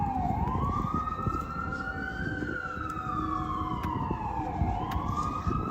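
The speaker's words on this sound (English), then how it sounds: "Oh, sirens." Emergency vehicle siren on a New York City street, wailing as it rises and falls, loud and fairly close over steady traffic rumble, with no talk.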